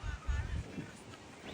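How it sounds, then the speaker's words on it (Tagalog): Strong wind buffets a microphone outdoors while a kite is flown, a steady rushing roar with low gusty rumbles throughout. "Dahil sobrang lakas ng hangin."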